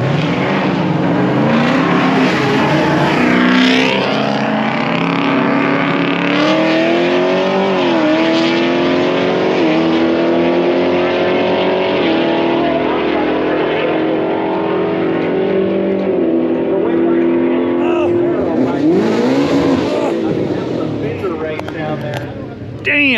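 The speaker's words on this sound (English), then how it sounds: "the truck just barely got edged out by that Camaro at 120 mile an hour" A truck and a Camaro roll race side by side at about 120 mph, their engines roaring loud and sustained with gear-change shifts in pitch, while people talk over the noise.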